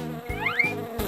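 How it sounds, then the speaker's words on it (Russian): A buzzing bee, heard as short rising and falling whiny buzzes, fairly close and alone for about a second. "Пчела."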